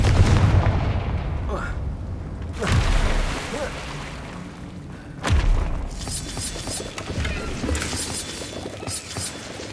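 Confringo fire spell cast in the Hogwarts Legacy video game, heard as sharp shattering blasts and booms at about 2.5 and 5.3 seconds, followed by crackling debris amid ongoing game ambience.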